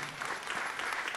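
A brief burst of dense audience applause at a French business conference on starting a company, an even wash of many hands clapping with no other sound standing out.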